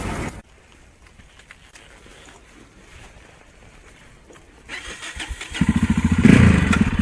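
A Yamaha XT 660 motorcycle engine starting: quiet at first, then the engine catches and settles into a loud, steady, rhythmic idle thump close by.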